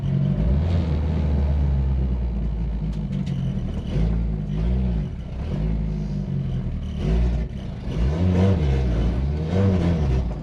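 Car engine with boost turned up, loud and close, revving and accelerating hard with rising and falling pitch sweeps through several gear pulls, alone without talk.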